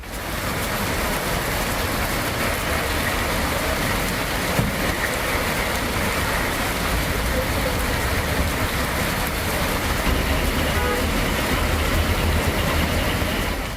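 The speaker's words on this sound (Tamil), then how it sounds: "அரை மணி நேரத்திற்கு மேலாக கனமழை பெய்தது" Heavy rain pours steadily as a dense, even hiss with no letup, loud and close, with no voices over it.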